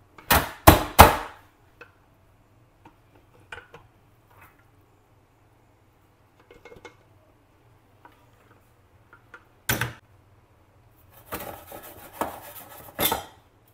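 Pots and cutlery clank in short sharp bursts while rice and chicken are dished up from a cooking pot, with quiet pauses between a few clustered clatters near the start and end.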